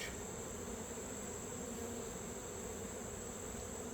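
Honeybees hum steadily around an open hive under inspection, a dense continuous drone of many wings that stays even and fairly quiet throughout.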